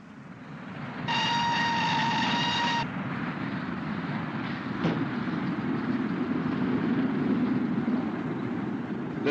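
A steam-era mail train of 1936 runs with a continuous heavy rumble and rattle, a sustained whistle sounding for a couple of seconds, and a sharp knock midway as pouches are swept aboard by the trackside net.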